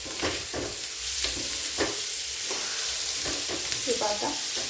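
Bitter gourd, already softened in oil, is stir-fried with spices in a pan, giving a close, steady sizzle broken by repeated stirring scrapes and a few clinks near the end.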